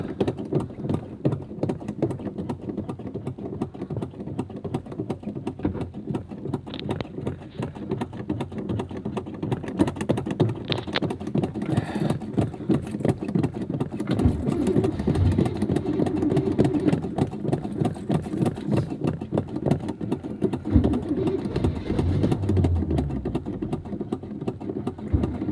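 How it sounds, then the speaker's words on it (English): A 1978 GMC RV engine cranking over on a very cold start, a steady rapid mechanical chug that runs continuously without a clear catch or settled idle, close and moderately loud. "Let's crank this bugger up."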